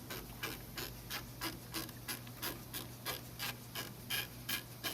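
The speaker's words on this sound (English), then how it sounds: "This is a 24 millimeter socket on here right now, so we're just going to break this nut free" A 24 mm socket wrench ratchets against a drag link nut on a 2011-2016 Ford F-250/F-350, giving about a dozen close, evenly spaced clicking strokes in a steady rhythm with no talking.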